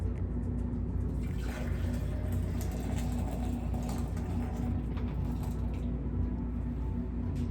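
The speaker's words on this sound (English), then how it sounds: "We just use a French press to strain it, so I'm going to try and gracefully pour this into that." Hot masala chai is poured from a pot into a French press to strain it, a continuous splashing trickle of liquid under a low steady hum from the kitchen, with nobody speaking.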